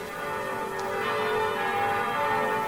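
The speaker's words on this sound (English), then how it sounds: "the bells of alarm rang out" Church-style bells toll continuously in a sustained, resonant wash, steady and fairly loud with no voices, standing for alarm bells across medieval Europe.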